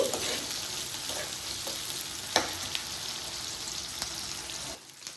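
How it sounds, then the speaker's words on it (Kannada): Chopped onions frying in a pan, a steady close sizzle with occasional stirring clicks, running alone for several seconds before cutting off near the end. "ಈ ಈರುಳ್ಳಿ ಕೆಂಪು ಬಣ್ಣ ಬರೋವರೆಗೂ ಫ್ರೈ ಮಾಡ್ಕೋಬೇಕಾಗುತ್ತೆ ಸ್ವಲ್ಪ ಹೊತ್ತು ಇದು ಹೀಗೆ ಫ್ರೈ ಆಗಿ"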